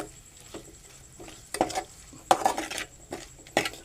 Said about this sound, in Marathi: कांदा चांगला परतून घेऊ परत.